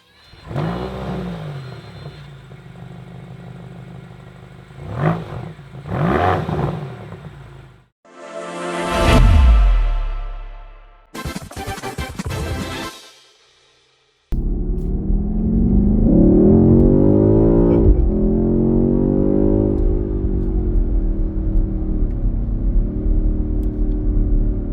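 A BMW XM's 4.4-liter V8 roars close by in sweeping rev bursts, then falls into a dense, steady rumble that runs loud to the end, with a short gap of near silence in the middle.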